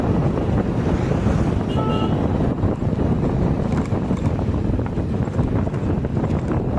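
A vehicle drives along a road with a steady, dense rumble of engine and wind buffeting, continuous and close throughout, with no talk.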